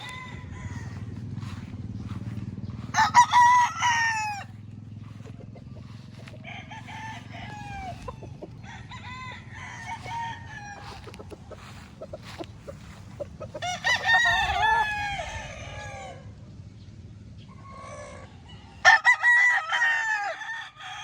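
A rooster crows repeatedly on a farm, three or four loud calls spaced through the clip, with other chickens clucking and a low engine-like hum running underneath.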